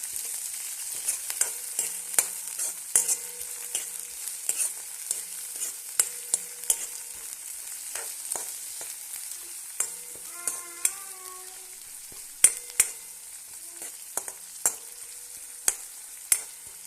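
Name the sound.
stirring food sautéing in oil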